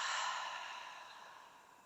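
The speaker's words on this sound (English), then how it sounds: "Separate the lips, exhale." A single long exhale flows out through parted lips during a calm morning breathing practice, starting soft and airy and slowly fading away.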